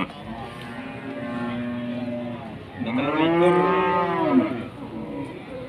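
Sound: cow mooing

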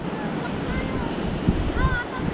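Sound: strong ocean waves on a black sand beach

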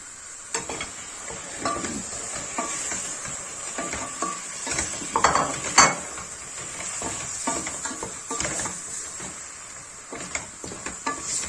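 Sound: meat added to a hot pan, sizzling and stirred

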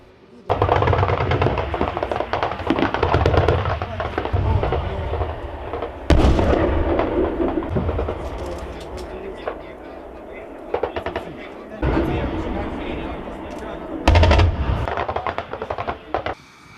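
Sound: gunfire and artillery at military training exercise

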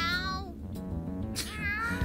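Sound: cat meowing in the video game Persona 5 Strikers

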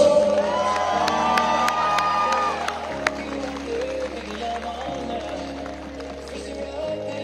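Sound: audience applause and cheering

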